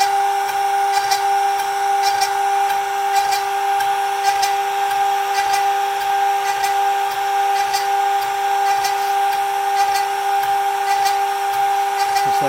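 A CNC router with a 1/4 inch bit recutting a guitar neck for a Red Special test build, a steady whine with a strong tonal hum held throughout, faint regular pulses of cutting beneath, continuous and close.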